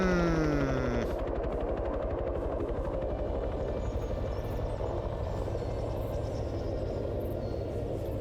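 A helicopter in a video game thumps with steady rotor chop under a continuous loud engine drone, a brief rising tone at the very start before the rotor sound settles in.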